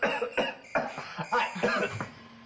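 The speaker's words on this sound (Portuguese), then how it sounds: "Ah, desculpa, é um pigarro." A person clears their throat several times in quick rough bursts, close and fairly loud, with short gaps between each rasping effort.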